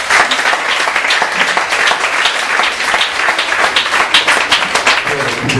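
A church congregation applauds the Lord together, a dense, steady wash of many hands clapping at full volume from start to finish, with faint voices mixed into the crowd.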